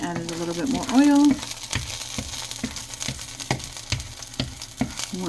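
Ground beef frying in oil in a pan for beef bulgogi, a steady loud sizzle with scattered crackles and stirring scrapes, a short tonal whine early on.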